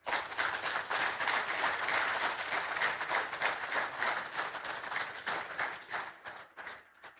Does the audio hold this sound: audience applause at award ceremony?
yes